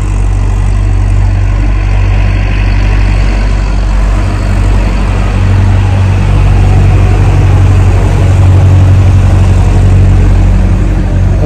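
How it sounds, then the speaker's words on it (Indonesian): A tractor passing by outdoors in Poland gives a loud, continuous low-pitched engine rumble and drone, steady for the whole stretch and close to the listener, with no talk over it. "sebentar karena ada traktor lewat."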